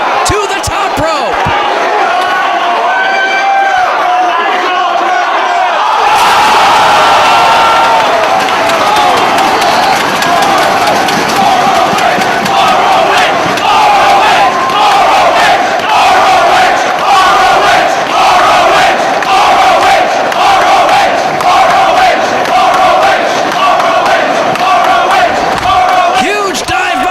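Philadelphia wrestling crowd at Ring of Honor's Driven 2007 cheering for Nigel McGuinness during his match with Bryan Danielson: a loud, roaring arena crowd with rhythmic clapping and shouts that surge after a quieter opening.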